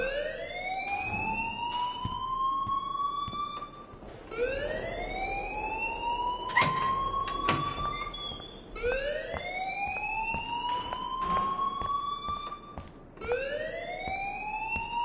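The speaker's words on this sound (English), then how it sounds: "please turn off that alarm since that's your job" An alarm rings in a video game, rising siren-like sweeps repeating about every four seconds, loud and steady, with a few sharp clicks and taps over it.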